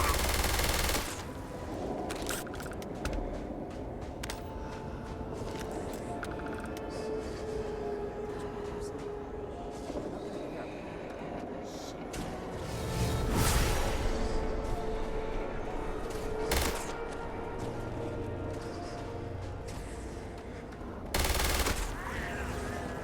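Rapid automatic gunfire in Starfield, a sustained rattling burst of shots running through most of the stretch with a few louder peaks, while a voice talks over it now and then.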